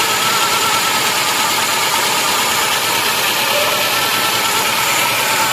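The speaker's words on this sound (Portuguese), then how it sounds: "o motor dá uma melhoradinha na hora que bomba o freio" A Volkswagen Quantum car engine with automatic transmission runs steadily at idle, a dense, continuous rumble with a faint knocking texture and no pauses, close and fairly loud throughout while a carburetor is being adjusted.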